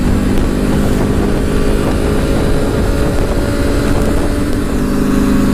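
A Ducati Panigale S motorcycle rides along a highway, its engine a loud, continuous, steady drone heard up close throughout.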